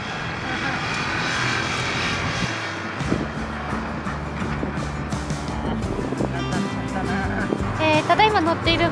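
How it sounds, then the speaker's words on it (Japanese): A Husqvarna Vitpilen motorcycle rides along with a steady engine drone and heavy wind rush, the rider's voice rising over the noise near the end. "ただいま乗っているバイクはハスクバーナのビットピレン、ビットピレンです。"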